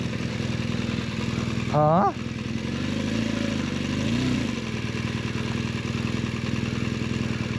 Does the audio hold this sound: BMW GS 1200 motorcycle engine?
yes